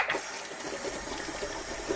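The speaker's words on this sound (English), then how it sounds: "I might wash my hands because they're a bit oily." Steady rush of tap water running over oily hands at a kitchen sink, close and continuous, with faint splashing as the hands move under the stream.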